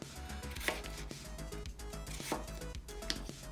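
A knife cuts potatoes into thin fry strips on a board, three sharp chops spaced about a second and a half apart, close by under background music.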